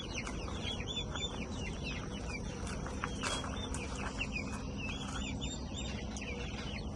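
Chickens cluck and chatter continuously around a backyard coop, a busy overlapping mix of soft calls from several birds over a steady outdoor background, with no talking.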